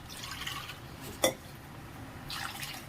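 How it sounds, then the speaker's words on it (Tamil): Water is poured from a vessel into ground coconut for a prawn curry, a quiet liquid trickle with one brief sharp splash or clink midway, then a soft renewed pour, close by with no talking. "எவ்வளோ தண்ணி வேணுமோ எல்லா தண்ணியும் இப்போ ஊற்றிக்கலாம்."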